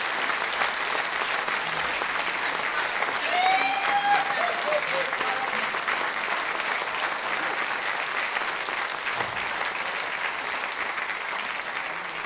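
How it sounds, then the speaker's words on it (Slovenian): Large audience applause at a folk music gathering fills the hall, steady dense clapping that stays loud throughout with crowd murmur beneath. "še en velik aplavz"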